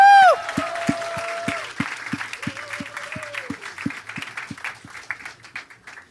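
At a Janmashtami play, a loud whoop opens a crowd clapping together in a steady, rhythmic beat, with cheers and voices mixed in as the claps carry on evenly and gradually fade.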